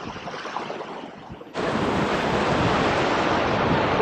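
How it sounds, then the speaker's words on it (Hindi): A river flowing past a riverside halt in Nubra Valley, Ladakh, giving a broad, steady rush of water. It starts slightly quieter and jumps louder partway through, then holds as a dense, continuous roar close by, with no talking. "On the way to Nubra, we have taken a small halt at this beautiful riverside."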